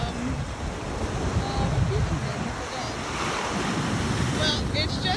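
Ocean surf washing onto the beach just south of Point Mugu in Ventura County, California, a steady broad roar of breaking waves with wind buffeting the microphone, continuous and fairly close throughout.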